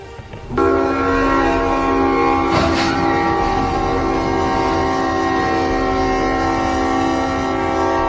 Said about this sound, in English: Why does the train have to hit everything on the tracks?